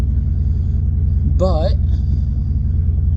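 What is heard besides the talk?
1984 car engine with 670 Holley 4-barrel carburetor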